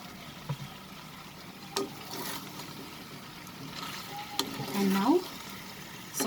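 Chicken curry with potatoes and soya sauce sautéing in a pan, a soft, steady sizzle with a few brief clinks and stirring scrapes, fairly quiet and unaccompanied by speech.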